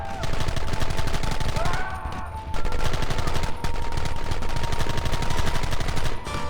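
Rapid, sustained gunfire fills a Red Dead Redemption battle, dense bursts of shots crackling near and loud with hardly a pause, a faint tone humming underneath.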